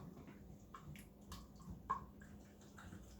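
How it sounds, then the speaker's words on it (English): A cornstarch and water mix is poured into a hot sauce, giving faint, scattered liquid splashes, drips and a small plop in a quiet kitchen. "we're going to go ahead and add in our cornstarch mix with water"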